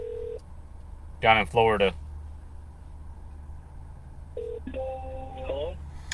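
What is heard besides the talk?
telephone keypad dialing tones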